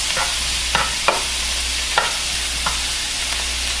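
Chopped mushrooms and onions stirred in a hot pan over a steady sizzle, with a spoon scraping in repeated strokes at a fairly even rhythm, close and clear.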